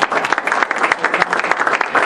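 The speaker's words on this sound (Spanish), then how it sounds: "Dale ese aplauso fuerte al Señor." A church congregation claps loudly and steadily during a Spanish-language sermon, dense overlapping handclaps filling the room without a break.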